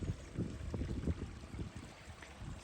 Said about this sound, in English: I'm currently just sitting on a bridge, some flowing water.